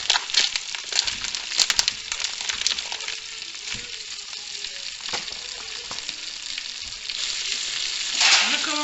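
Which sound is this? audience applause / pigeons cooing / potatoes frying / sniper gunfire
potatoes frying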